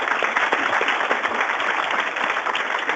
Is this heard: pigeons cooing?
no